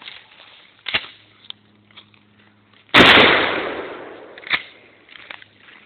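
Shotgun firing a custom shell loaded with butyl rubber weatherproofing, one sharp loud blast that decays into a long rumbling tail, framed by faint handling clicks and footsteps.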